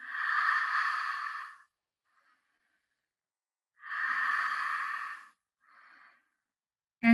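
Slow breathwork breathing, with two long, loud, breathy exhales or inhales of about a second and a half each, separated by silence, plus a softer short breath afterward, close to the microphone with no talking.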